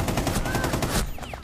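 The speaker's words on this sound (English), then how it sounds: "I shot him, but I don't know how my shots didn't register." A rapid string of gunshots in Rainbow Six Siege rattles for about a second, loud and close, then cuts off into quieter background game noise.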